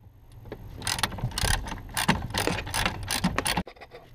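A socket ratchet undoes a 10 millimeter bolt on a 1994 Honda Civic coupe, giving close, loud bursts of clicking and grinding mechanism noise that stop abruptly.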